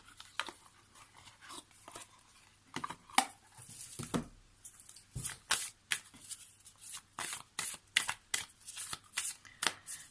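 Tarot cards being shuffled at close range: soft riffles and flicks start sparse, then run into a quick, steady series of crisp papery slaps for several seconds, with no speech.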